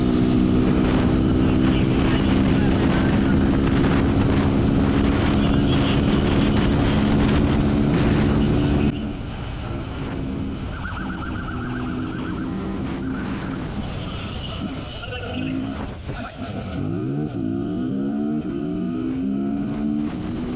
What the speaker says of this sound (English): the suspect opens up the throttle